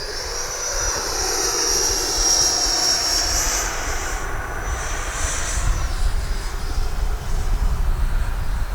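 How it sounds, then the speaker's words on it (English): An E-flite Viper 90mm electric ducted-fan RC model jet roars steadily overhead with a high whine, loud and sustained, its pitch shifting slightly as it passes. "Man, what an incredible flying jet."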